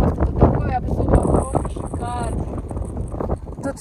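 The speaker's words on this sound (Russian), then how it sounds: "Тут ветер, ничего не слышно будет." Wind buffets the microphone in a steady low rumble while a person talks over it.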